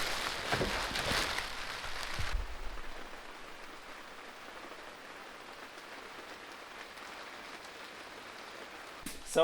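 Rain falls outdoors at a site where a heated concrete driveway apron is being poured, a dense steady hiss that is loudest for the first couple of seconds, then settles into a softer even patter.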